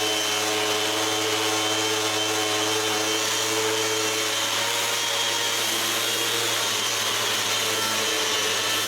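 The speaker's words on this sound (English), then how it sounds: "To sand the thin section of the door frame" A power sander works steadily on a thin section of a wooden door frame laid on the ground, a continuous, even whirring hiss with a low hum that stays constant throughout.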